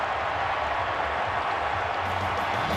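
Football stadium crowd of Chiefs fans in Kansas City at an NFL game against the Broncos, cheering as a broad, steady roar with a low rumble underneath, sustained and fairly loud for the whole moment.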